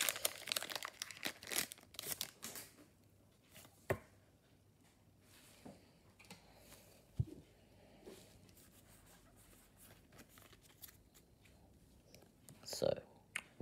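Crinkly plastic packaging on a Pokemon Zacian premium collection box being handled and opened: bursts of crinkling and tearing come close up, loudest at the start and again near the end, with quieter rustles and clicks between.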